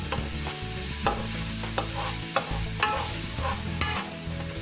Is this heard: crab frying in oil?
yes